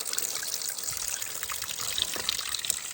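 Water trickling through bamboo tubes on a mountain trail, a steady close splashing and dribbling stream with bright bubbly detail throughout, no speech.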